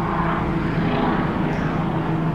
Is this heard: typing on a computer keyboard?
no